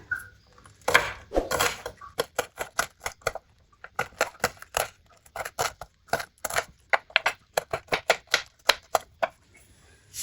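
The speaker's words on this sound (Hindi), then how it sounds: "ये ग्रीन चिली का ये डंडिये पीछे से, और इनकी कर लेंगे कटिंग।" A knife chops green chilies on a board in quick, sharp, close knocks, with a brief pause after the first cuts before a long, steady run of rapid strikes.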